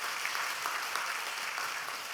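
A church congregation applauding during a Sunday worship service, a dense, steady patter of many hands clapping at moderate distance throughout, with no voices over it.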